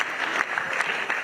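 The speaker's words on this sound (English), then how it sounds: "A round of applause, please." Audience applause fills a formal alumni gathering at the University of Benin, a steady dense patter of many hands clapping close by, with no break across the short stretch.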